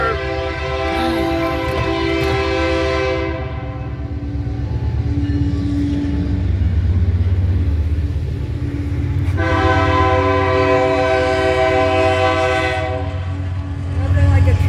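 A loud train rolls past close by, its horn sounding in long sustained blasts near the start and again later, over a steady rumble of wheels and cars throughout.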